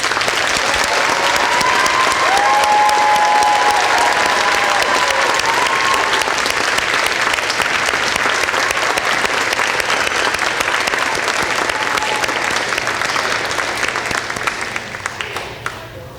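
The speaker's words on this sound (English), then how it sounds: "I now present the new members of the National Technical Honor Society for a round of" Sustained, loud applause from an audience at a National Technical Honor Society induction ceremony, with dense clapping from many hands that continues steadily and gradually tapers off at the end.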